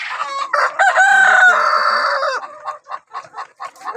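A poultry flock of about 200 birds, hens and roosters together, with a loud close rooster crow sustained for about two seconds over clucking, followed by a series of short clucks and calls.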